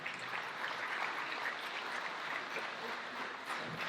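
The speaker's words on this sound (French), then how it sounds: "Je pense qu'on peut l'applaudir encore très fort" Steady, fairly faint applause from a French-speaking audience at a morning public gathering, continuous clapping from many people without pause.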